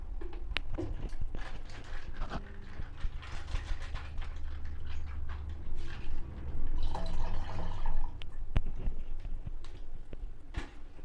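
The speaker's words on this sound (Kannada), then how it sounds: "ವಾಟರ್ ಕ್ಯಾನಲ್ ಫ್ರಿಜ್ಜಲ್ಲಿ ಇಟ್ಟಿದ್ದ ನೀರು ಅವನೇ ಹಾಕ್ತಾ ಇದ್ದೀನಿ" Cold water from a refrigerated water can is poured into a container in a home kitchen, a steady liquid splash with scattered drips and clinks, fairly close, with no talk.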